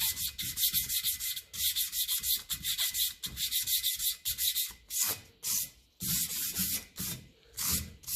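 A Ferguson 20 tractor grille being sanded to roughen the surface: close, loud, rhythmic back-and-forth scraping strokes in quick succession with short pauses, no talking.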